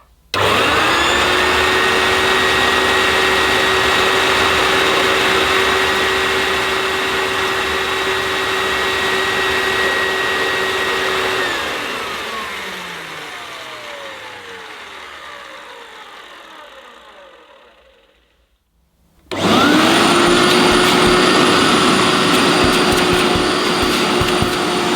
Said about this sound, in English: We'll switch on. Hopefully the brushes will rotate and the motor will sound okay